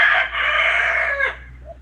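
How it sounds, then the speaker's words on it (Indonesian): A single rooster crows loudly and close by, one long drawn-out call that tails off into quiet. "ayam berkokok itu"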